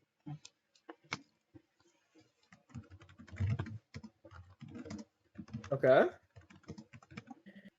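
Computer keyboard typing during a Pokémon tournament broadcast: quiet, irregular clusters of key clicks, with a person briefly speaking over them partway through.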